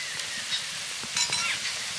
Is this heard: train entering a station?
no